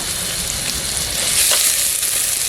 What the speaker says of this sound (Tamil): வெங்காயம் வதக்கிறதுக்கு உப்பு உப்பு சேர்த்து